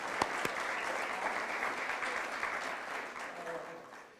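Steady, sustained applause from a community gathering audience in Derry, New Hampshire, holding at an even level throughout and gradually thinning near the close, with a couple of sharp knocks at the start.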